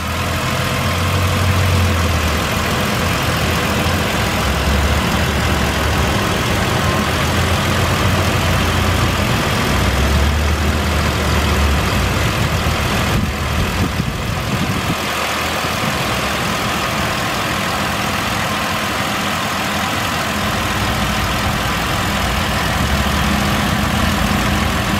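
A 2008 Ford Explorer's 4.0 liter V6 idles steadily at a salvage yard auto shop, a constant close low engine hum and rumble with no talk.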